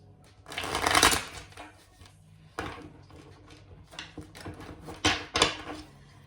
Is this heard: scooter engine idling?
no